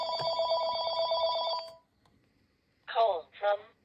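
A Panasonic KX-TG6524 cordless phone rings with a bright electronic warbling tone for about a second and a half, then falls silent before a voice speaks briefly nearby.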